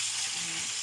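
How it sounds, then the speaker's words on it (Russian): Potatoes sizzle in butter in a pan for a home dinner, a steady close hiss with no break. "И буду как бы парить картошку в этом жире."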